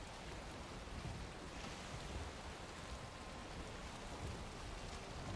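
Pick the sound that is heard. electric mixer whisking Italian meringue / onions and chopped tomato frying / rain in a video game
rain in a video game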